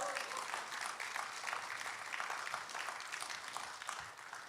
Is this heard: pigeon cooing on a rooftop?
no